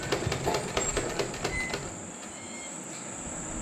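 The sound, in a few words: sewing machine stitching a suit sleeve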